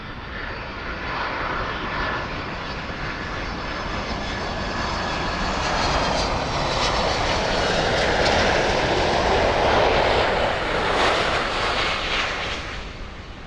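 DHL Boeing 767 cargo jet arriving at Miami Airport, a loud continuous engine roar with rumbling low end that grows stronger and peaks as the plane passes, then fades slightly; no talking.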